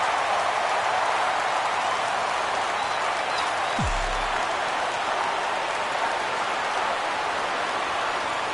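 Loud, steady crowd roar from a PS4 baseball video game, a broad continuous wash of cheering noise filling the whole stretch with no talk over it.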